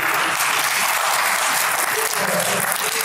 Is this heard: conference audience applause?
yes